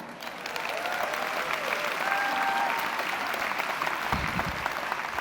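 Applause from a conference audience during a keynote address at the 2022 Shaklee conference, swelling into sustained, moderately distant clapping from a large crowd, with a few faint whistles over it.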